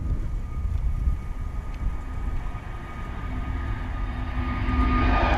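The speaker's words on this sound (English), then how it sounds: "Heading out to Venice this morning, EasyJet A320 Neo. Here we go, coming right overhead." An EasyJet Airbus A320neo passes overhead, its engine roar a broad steady rush that swells louder toward the end as the jet comes closer.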